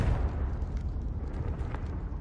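Confringo fire-blast spell going off in Hogwarts Legacy, a broad, rumbling explosive boom with crackling bursts that stays loud and dense across the whole moment, no voices over it.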